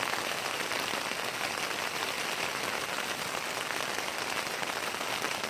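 A dense, constant patter of hail drumming on a taut tent fly close by, steady and loud throughout with no talking.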